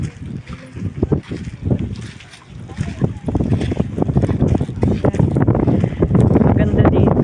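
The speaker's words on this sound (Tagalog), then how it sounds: "Mahangin." Strong wind buffets the microphone on a boat at sea while island hopping off Boracay, gusty low rumbling that grows steadier and louder, with people talking over it.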